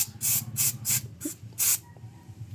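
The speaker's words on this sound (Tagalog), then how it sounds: "O, pag spray ng brake cleaner, pag ganun, palayo sa'yo, para hindi ka matalsikan." Brake cleaner is sprayed onto the noisy brake pads of a Nissan Navara in five short, hissing aerosol bursts at an uneven pace, close up, with a low hum underneath.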